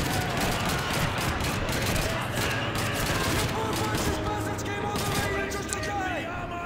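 Gunfire in the World War II shooter Call of Duty 2, a dense, steady stream of shots and bursts running throughout, with faint voices and game noise mixed in.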